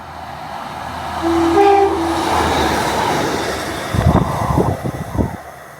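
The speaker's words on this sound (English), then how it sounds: "The Class 153 diesel multiple unit is running about 12 minutes early, so we are getting that through Attenborough right now." A Class 153 diesel multiple unit train passes through Attenborough, loud and close with a rising engine roar, a brief two-tone horn, then rhythmic clatter of wheels over rail joints.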